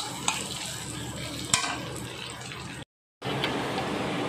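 Beaten egg fries in a wok with a dense, steady sizzle and a few sharp stirring clicks, for chicken egg chowmein, broken by a brief gap of silence before the frying resumes.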